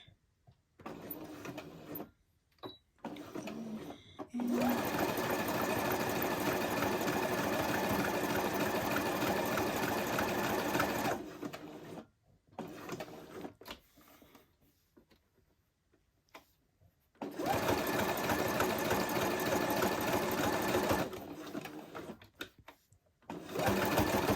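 A home sewing machine running a narrow zigzag stitch around a star shape on a roller derby helmet cover, in two long steady whirring bursts with quieter pauses and brief starts between them.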